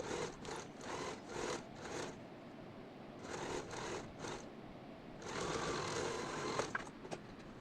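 A sewing machine stitches cloth in several rapid bursts of rattling, clattering needle strokes separated by short pauses, with a longer steady run near the end.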